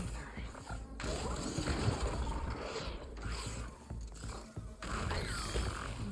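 A robotic machine creature in Horizon Forbidden West moves with dense, continuous mechanical whirring, creaking and ratcheting over a steady game soundscape, loud and near, with faint voice-like layers underneath.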